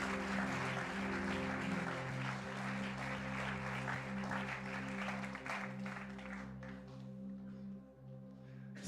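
A congregation's warm applause for a family at a church service, sustained clapping over a steady low tonal hum, easing slightly toward the end.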